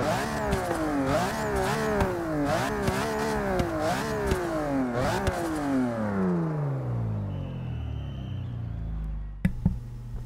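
A tuned 2015 BMW X6 with new turbos and 1,100 horsepower revs repeatedly in Forza 6, rising and falling engine pitch in rapid pulses, then a long descending wind-down and a couple of sharp pops at the end.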